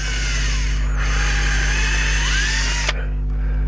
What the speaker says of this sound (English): I'm just going to drill straight down through the pot, a little pilot hole